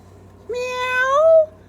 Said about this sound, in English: Where is that meow coming from?